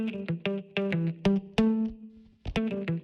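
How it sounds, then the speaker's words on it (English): Electric guitar chugging muted notes in a steady rhythm, each note held and ringing out with added sustain, up close with no voices. "Just adding some sustain to those muted notes."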